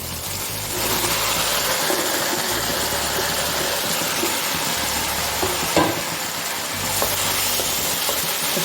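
Bottle gourd tipped into spices frying in a pan for a salan, a loud, continuous close sizzle with a low rumbling hum underneath and occasional stirring knocks.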